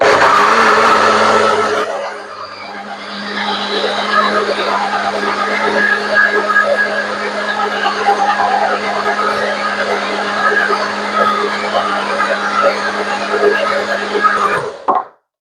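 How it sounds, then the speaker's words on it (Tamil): Mixer grinder blending butter chicken masala: a loud, steady motorized whir runs unbroken for about twelve seconds after a brief opening sound, then cuts off abruptly. "இப்போ வந்து இதை மிக்சியில் வந்து அடித்து எடுப்போம்."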